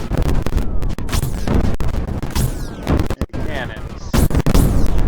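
Cannons fire repeatedly in the strategy game Creeper World 4, rapid sharp booms and blasts in a busy, nearly continuous barrage, loud and close.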